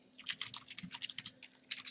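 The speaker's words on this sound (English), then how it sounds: "So all the basic stuff I am typing here" Rapid typing on a computer keyboard, a close, quiet flurry of crisp key clicks in an uneven rhythm with a brief pause near the end.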